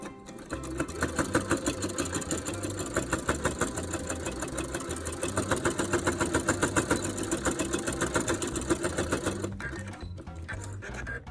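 Sewing machine stitching a dog collar, running steadily close up with a fast, even mechanical chatter for about nine seconds before stopping, followed by a few faint handling sounds.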